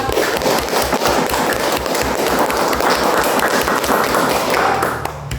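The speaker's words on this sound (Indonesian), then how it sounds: "Kasih tepuk tangan dulu untuk kelompok 1." Students in a classroom clap for a discussion group, loud and close, a dense rapid patter of many hands with some hands clapping in rhythm, fading out near the end.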